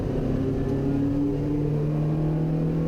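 A Volvo race car overtakes at Ring Knutstorp, heard from inside a 1959 Alfa Romeo Giulietta SV: a steady engine drone with rising and falling pitch, loud and continuous, with no speech.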